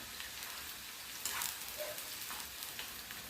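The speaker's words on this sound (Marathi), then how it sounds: "आता कांदा ॲड करायचा तेल छान झाले तापलेलं आहे" Onion frying in hot oil after cumin and mustard seeds, a faint, even hiss of sizzling with a brief louder crackle midway, heard alone without talk.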